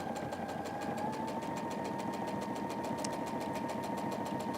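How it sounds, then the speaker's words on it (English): A Baby Lock Symphony sewing machine stitches quilt pieces together, a fast, even mechanical chatter of the needle with a steady motor hum running throughout at moderate volume. "I'm going to sew this guy down."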